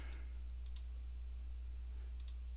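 Sparse, faint mouse clicks in DipTrace schematic software, a few sharp short ticks spaced apart over a steady low hum, with no talking.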